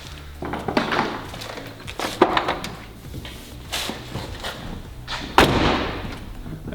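A 1976 BMW 2002 engine, unused for about 20 years, cranks in uneven bursts of loud, close chugging and sputtering thumps, nearly catching without settling into a steady idle.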